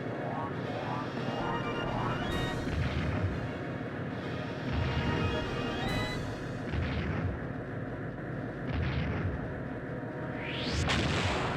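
A harpoon cannon fires in Skies of Arcadia Legends, with booming blasts and rumbling impacts under a dense wash of game music and effects, loud and continuous throughout.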